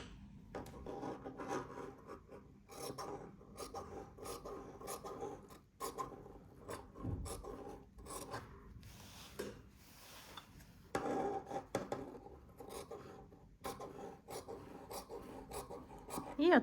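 Quiet, close rasping and rubbing as Easter decor material is trimmed along a seam allowance, with irregular scraping strokes and soft cuts, no talking.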